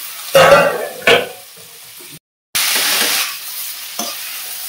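Banana flower, soaked with turmeric, tipped into a pan of fried rice and stirred, giving two sharp bursts of sizzling and scraping, a brief gap, then a steady close frying hiss with a final stir.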